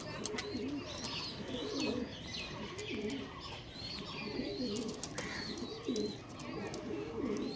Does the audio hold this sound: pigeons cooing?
yes